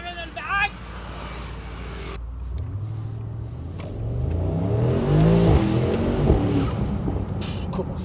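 A rare Mercedes-AMG on Paris streets accelerates hard, its engine rumble swelling from a low idle into a loud, rising roar that holds strongly before easing slightly.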